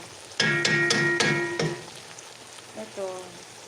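Food sizzling in a pan during home cooking, with a few sharp bursts of crackling and spattering up close, followed by softer clattering near the end.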